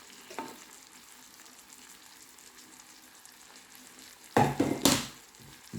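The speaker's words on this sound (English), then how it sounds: "Just leave it there to fry for a bit, to incorporate a bit butter into it." Cauliflower rice frying in butter in a pan makes a faint, steady low sizzle, broken by an early scrape and then a louder burst of stirring and clatter near the end.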